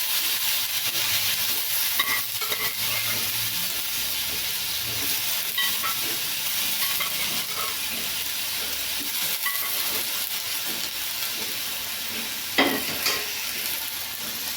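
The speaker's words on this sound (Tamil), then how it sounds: "இப்போது வேர்க்கடலையை வேர்க்கடலை ஒண்டி எடுத்து கடாயில் போட்டுக்கலாம்." Boiled peanuts sizzle and hiss steadily in a hot kadai, with occasional scraping stirs and a sharp clink near the end.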